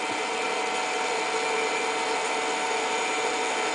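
A small gear head DC motor for robotics runs at a steady speed, giving a constant close whirring hum that stays even throughout.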